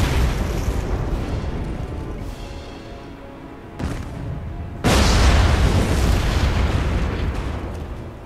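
Grenade or dynamite blasts in the Saboteur video game: a rumbling explosion followed by a second, louder boom near the five-second mark that rolls on as a sustained, heavy roar with no voices.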